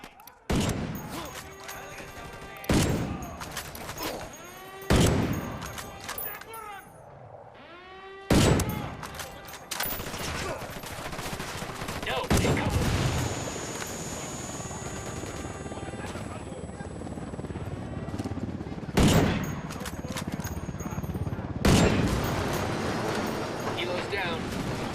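An L11 sniper rifle fires in Ghost Recon Wildlands gameplay, a series of sharp, loud single shots spaced several seconds apart, each ringing out over a steady helicopter-like drone.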